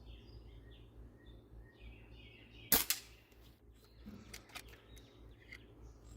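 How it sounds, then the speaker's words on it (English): A CO2 airsoft pistol fires a BB at tall Genesee beer cans outdoors, one sharp snapping shot followed by a faint metallic hit, with birds chirping softly in the background. "We'll just do this till we run out of CO2 or BBs."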